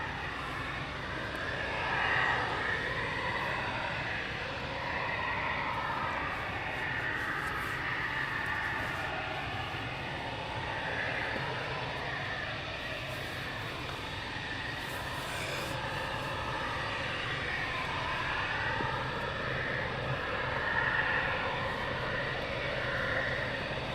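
BAE Hawk T2 and Texan T1 training aircraft at RAF Valley, heard as a steady, distant engine roar and drone lasting throughout, with no talking.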